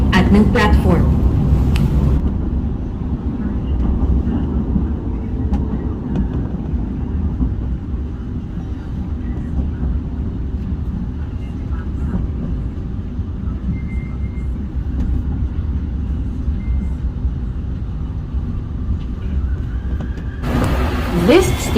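An LRT-1 fourth-generation train running in Manila, a steady rumbling ride noise with rolling low hum throughout, brief louder bursts at the start and end.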